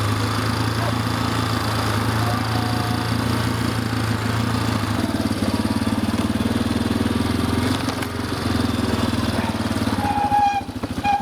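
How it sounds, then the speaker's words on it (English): A four-wheeler engine runs steadily and loudly up close throughout, a continuous mid-pitched drone used while training sled dogs on an Alaskan river, with a few rattles and clanks near the end. "we can start training the dogs with the four-wheeler"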